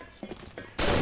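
A video game gunshot landing a headshot: a few quiet clicks and thumps, then a sudden loud burst of gunfire that fills the end of the brief clip.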